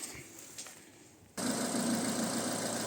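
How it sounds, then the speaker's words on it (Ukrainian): A 2007 Renault Grand Scenic 2.0-litre petrol engine catches and settles straight into a steady, even idle after a quieter moment of low background hum. "Зараз ще заведу двигун, покажу вам роботу двигуна."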